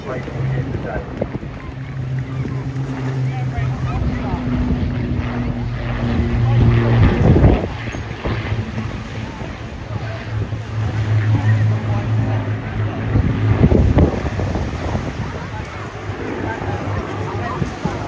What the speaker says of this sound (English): give you a moment to appreciate the roar of these iconic engines as they make their initial approach to the display here today